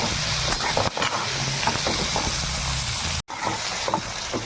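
Pieces of rohu fish fry in hot oil, giving a steady, close crackling sizzle that continues without a break apart from one brief dropout.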